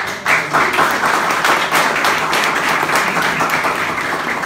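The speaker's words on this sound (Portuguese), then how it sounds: "Vamos receber com aplausos, Max." An audience at a talk applauds to welcome a speaker named Max, the clapping starting sharply and holding steady and loud before easing slightly toward the end.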